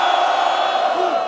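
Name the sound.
crowd cheering and shouting at rap battle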